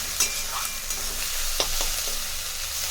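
Onions frying in a pan over a raised gas flame, a continuous bright sizzle broken by a few sharp scraping stirs, close and fairly loud, with no talking.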